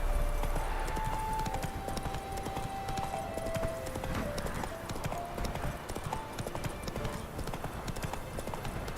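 Horse galloping in the video game The Witcher 3, steady rapid hoofbeats with occasional whinnies over a constant game soundscape and faint musical tones throughout.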